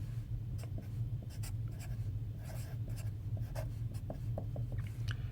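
Chalk writing on a board during a linear algebra lecture, a quiet run of quick taps and short scratchy strokes in close succession, heard alone with no speech over it.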